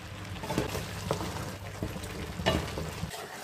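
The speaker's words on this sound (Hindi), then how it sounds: "सब्जी को अच्छे से भून लेंगे हम।" Mixed vegetables with yogurt fry in a pan, a soft, steady sizzle with faint stirring scrapes and small pops, quiet and close.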